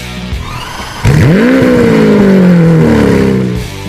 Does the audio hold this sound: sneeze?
no